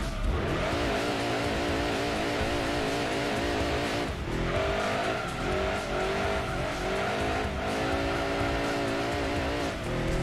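A racing car in the Gran Turismo 2 video game screams at its rev limiter, the loud engine tone repeatedly cutting and surging, with tire squeal mixed in over a steady roar.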